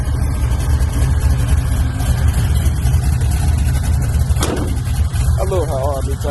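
A supercharged Cutlass engine idles through a Flowmaster FX exhaust with a deep, throaty rumble, steady and close, with a brief sharp noise near the end.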